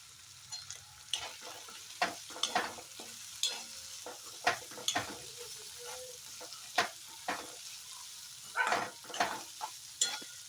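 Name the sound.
ridge gourd vegetable stir-frying in oil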